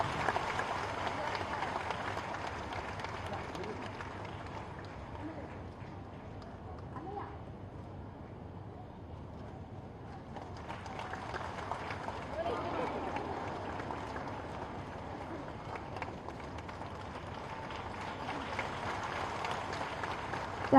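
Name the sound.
audience applause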